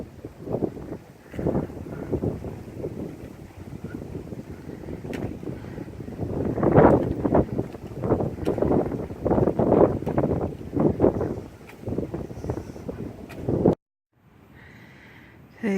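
Wind rushing through the trees of a park trail, a steady broad gusting roar that swells and eases over several seconds, close and fairly loud with microphone buffeting, then cutting to near quiet at the end.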